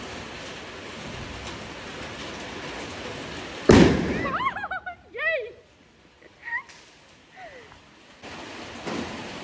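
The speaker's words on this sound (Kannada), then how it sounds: "ಇವನು ಎಷ್ಟು ಪಟಾಕಿ ಎಷ್ಟು ಅದು ಸೌಂಡ್ ಇದೆ" A single sharp firecracker bang during Diwali at home cuts through wind noise, followed by people's excited voices and a few fainter pops afterward.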